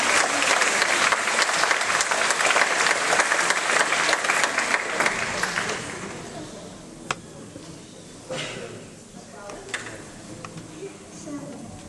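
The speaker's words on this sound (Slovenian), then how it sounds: "da imamo zaploskati zdaj za pogum" An audience at the "Odpri srce otroku" charity concert claps in dense, sustained applause for about six seconds. It then thins to scattered single claps with faint voices in the room.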